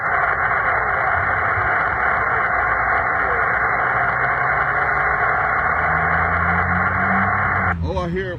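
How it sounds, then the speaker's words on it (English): Faint amateur radio station coming through a ham receiver during a park activation, a weak voice buried in steady hiss and static that runs throughout, with a brief burst of clearer signal near the end. "I hear a station in the background there."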